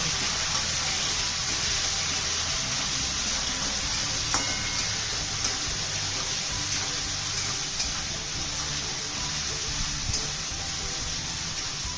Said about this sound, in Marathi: आता ही व्यवस्थित फ्राय झाली डाळ